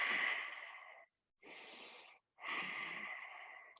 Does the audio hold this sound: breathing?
yes